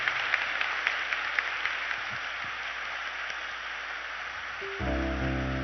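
Church congregation clapping together, a steady wash of applause that runs for several seconds before a sustained organ or keyboard chord enters near the end.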